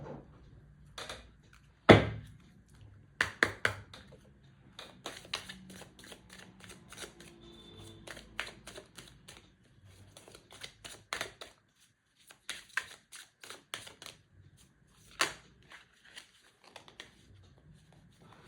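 Tarot cards are shuffled and handled up close, with quick riffling bursts, soft slaps and scattered papery flicks spread unevenly over a quiet background, with no talking.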